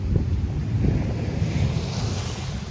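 Sea waves wash continuously onto a shore under steady wind, a broad rushing roar close to the microphone with gusty wind noise throughout.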